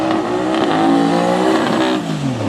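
A C6 Corvette at a drag race at Little River Dragway revs hard and accelerates, its engine note climbing and falling in loud, close sweeps for a couple of seconds with no voices.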